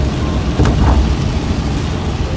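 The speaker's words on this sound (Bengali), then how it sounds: "প্রচুর জোরে বৃষ্টি হচ্ছে আজকে" Dense, steady rain pours down in a continuous broad hiss, with a low rumble underneath and a brief swell of noise partway through.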